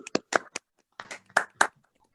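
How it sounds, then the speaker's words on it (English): Sparse claps come through a video call during an online annual meeting, a few separate bursts in two small clusters with quiet gaps between them. "Would you please unmute yourselves for a round of applause for Zinner & Company?"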